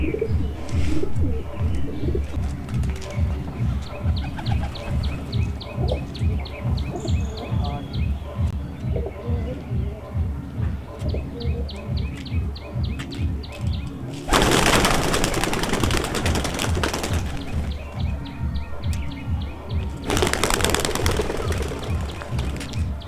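Pigeons on a rooftop coo steadily with pulsing, throaty calls and occasional chirps, close and continuous, while two loud bursts of broadband rustling or flapping cut in partway through and near the end.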